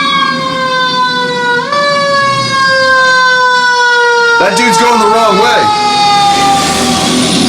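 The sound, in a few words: fire truck siren passing outside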